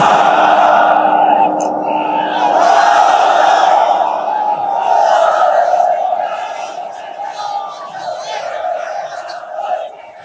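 A large gathering roars Allahu Akbar back in unison after a takbir call, a sustained, echoing collective shout that swells and fades in waves over several seconds, loud and close.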